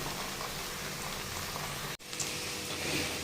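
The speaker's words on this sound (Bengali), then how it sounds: "বড়া ভাজা চলছে এখানে" Steady crackling sizzle of lentil fritter batter frying in oil, continuous and close, with a brief dropout partway through.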